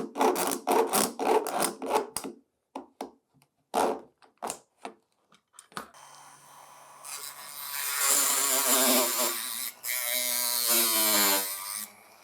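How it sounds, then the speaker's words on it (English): Rotary tool cutting a groove in brass tube, a steady high-pitched grinding hiss that builds and holds near the mic, preceded by scattered tapping and handling noises. "I can hold my rotary tool in the right spot and cut a groove in it"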